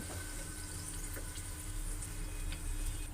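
Homemade french fries fry in hot oil at home, making a steady, moderate sizzle and bubbling with faint ticks scattered through it.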